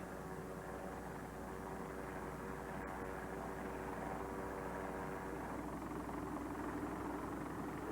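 Aircraft engine drone, steady and fairly loud, from a helicopter flying above a small coastal village with old church ruins below, a continuous hum with no voices.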